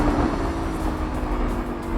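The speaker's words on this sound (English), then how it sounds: "this V10 is an absolute peach of an engine. It's so smooth and it revs so hard" A 2017 Lamborghini Huracan's V10 engine roars at speed, a brief, steady, loud drone mixed with road and wind noise.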